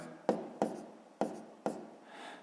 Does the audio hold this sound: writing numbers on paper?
yes